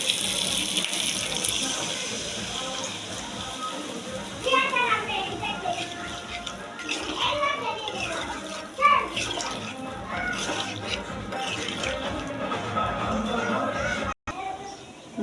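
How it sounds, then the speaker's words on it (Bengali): Water is poured into a pot of fish cooking with water lily leaves, a running splash that starts and stops several times while children's voices chatter in the background. "এখন দিয়ে দেবো পানি।"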